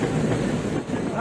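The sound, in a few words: Teesta Torsa Express train entering Malda station platform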